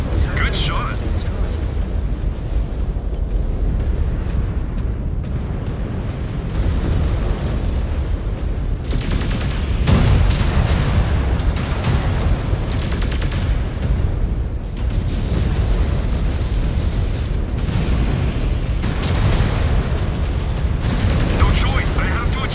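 A BattleMech is destroyed in MechWarrior 5: Clans amid loud, continuous booming explosions and crackling weapon fire, with bursts of heavy blasts throughout and radio-style voices speaking over the din.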